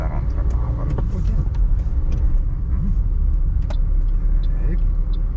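A car drives along in second gear with a steady low engine rumble and road noise, near and continuous, while a person talks over it.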